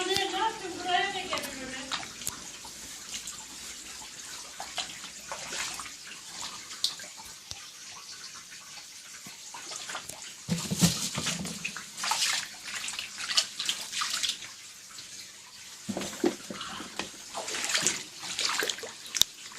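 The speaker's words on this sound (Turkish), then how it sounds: "her yer su. Hala akıyor ya ne kesilmesi ya şuraya bak." Water still flowing and splashing through a flooded room, a steady close rush with louder sloshing bursts now and then, and people talking over it.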